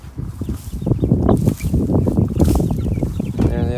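A flock of seven-week-old broiler chickens on pasture in Puerto Rico clucks and murmurs close by in a steady, busy chorus, with faint voices and outdoor noise underneath.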